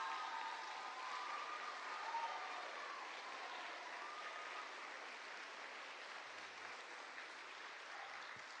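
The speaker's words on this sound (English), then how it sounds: "Let's give them the round of applause." A church congregation applauds veterans in a steady, sustained round of clapping that fills the whole stretch, dense and even in loudness without breaks.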